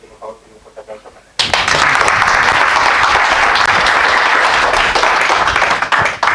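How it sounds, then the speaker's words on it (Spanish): Loud, dense applause from an audience at an education talk bursts in after a brief murmur and holds steady to the end. "por favor pido un fuerte aplauso"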